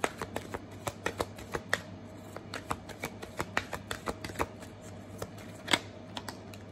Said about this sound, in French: On va mélanger ça